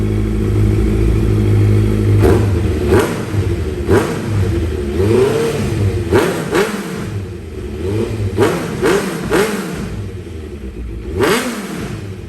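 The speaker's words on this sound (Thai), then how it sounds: "มาฟังเสียงท่อกันดีกว่าครับ" A 2016 Honda CBR650F motorcycle exhaust revving in repeated sharp blips over a rumbling idle, close and loud, with no talking.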